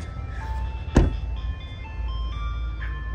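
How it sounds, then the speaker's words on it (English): An ice cream truck plays its tinkly melody outdoors at a moderate distance, sustained tones drifting over low background rumble, with one sharp knock near the start. "Already got an ice cream truck out here,"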